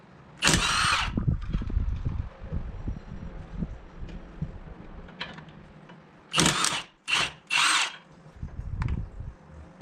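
An electric power tool whirs in short bursts in a workshop repairing a BMW R1200 sidecar wheel, one longer run early then several quick loud pulses, with clattering handling noise between.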